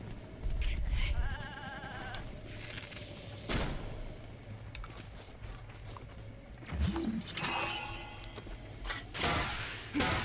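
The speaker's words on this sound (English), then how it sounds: "Oh, oh, come on, stupid goat." A goat in Breath of the Wild bleats several times in wavering, nasal cries over a busy game soundscape of rustling and low rumble, with one louder bleat near the end.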